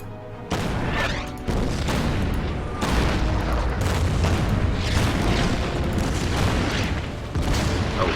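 Artillery fire in the Order of Battle wargame, heard as a series of heavy booming blasts at roughly one-second intervals over a steady loud rumble.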